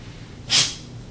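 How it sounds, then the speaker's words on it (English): A single short, sharp sneeze from a dog, close by, standing out briefly against quiet background. "You got sneezes."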